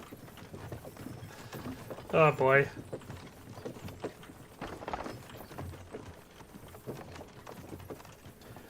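A horse's hooves clip-clop in the Kingdom Come Deliverance 2 video game, a short burst of steps in the middle while someone talks over the scene.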